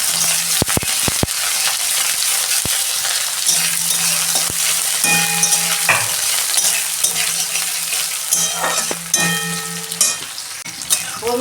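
Onions hit hot mustard oil with torn dried chillies and nigella seeds, giving a loud, steady sizzle with sharp crackles and pops and occasional scraping stirs close by.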